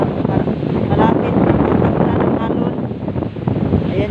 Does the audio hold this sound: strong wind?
yes